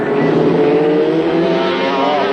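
A 1983 Pan Am Countrywide Series race car roars close and loud at high revs, its engine note holding steady with a slight rising whine and no voices.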